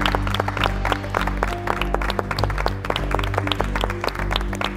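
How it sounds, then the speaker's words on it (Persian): An audience claps during a Mafia party-game show: several seconds of moderate, steady applause over a low background music bed. "تشویقش کن."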